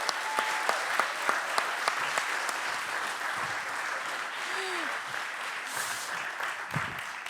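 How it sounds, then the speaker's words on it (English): Audience applause at an evening talks event, a dense sustained round of clapping with a few sharp individual claps standing out and faint crowd voices mixed in. "Can I get a loud applause for Edwin Gardner?"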